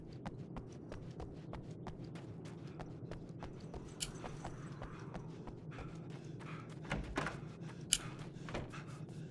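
A wooden gate in the video game Alan Wake's American Nightmare opens with an odd, hoof-like clopping: a quick, even run of dry clicks and knocks, moderately quiet over a low background hum.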